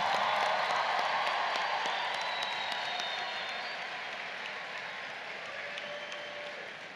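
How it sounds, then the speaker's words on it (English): Steady applause from a large audience at a college commencement ceremony fills the hall. The dense, even clapping starts loud and slowly fades. "Please give a round of applause for the families of the class of"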